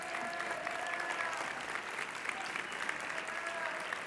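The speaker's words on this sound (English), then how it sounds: "you're applauding David" A volunteer is applauded by a foundation event crowd, a fairly faint, even patter of clapping that holds steady throughout, with faint tonal background sounds beneath it.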